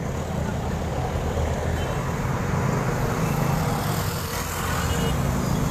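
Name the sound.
passing motorcycle in road traffic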